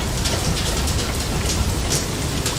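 Hail storm in the video game FAR: Lone Sails pelts down as a dense, continuous hiss of tiny impacts, steady and loud from start to finish with no voices.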